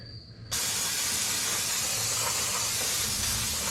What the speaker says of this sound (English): Let's rinse this off with our favorite friend, brake cleaner.